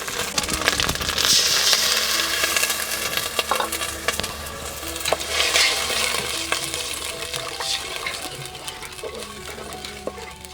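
Spice paste for a chicken and potato curry sizzles and spatters in hot oil while it is stirred, a loud, continuous frying hiss broken by scraping strokes.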